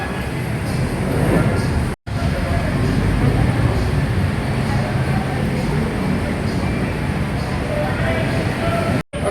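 Steady loud rumble of a Pasay LRT/MRT rail station with trains and crowd noise, continuous throughout, with voices blending into the din.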